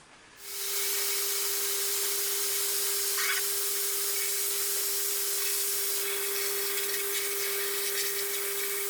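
A suction pump draws leftover pencil-and-oil mix out of a machine, producing a steady, close hiss that starts abruptly and runs on evenly with a constant tonal whine beneath it, with brief gurgling flutters partway through.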